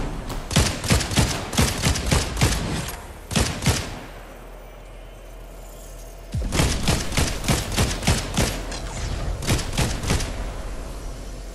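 Rapid bursts of gunfire crack out in loud, closely spaced volleys, pause for a couple of seconds behind a lower rumble, then resume in repeated clusters of shots.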